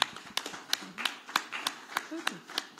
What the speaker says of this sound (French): Nous capables d'applaudir encore un coup.